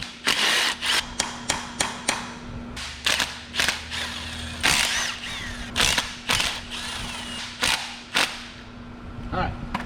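A ratchet wrench works loose the manifold on the engine of a 1990s MasterCraft boat during an engine swap, giving close, rhythmic bursts of sharp clicking separated by short pauses.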